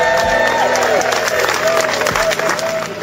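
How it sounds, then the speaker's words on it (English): A crowd at a sailing regatta prize-giving cheers and applauds loudly and steadily, whoops and whistles rising over dense clapping, with voices mixed in. "One big cheer, please."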